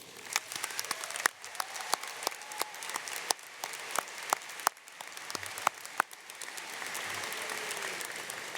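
A high school graduation crowd applauds educators for the class of 2025, a steady wash of clapping with sharp individual claps standing out near and far, swelling slightly toward the end.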